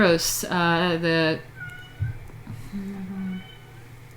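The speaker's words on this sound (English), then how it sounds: "let me know if you can hear this cat meowing" A domestic cat meows close by, several clear drawn-out harmonic cries in quick succession, then a quieter lower mew, with room noise and a brief spoken word around it.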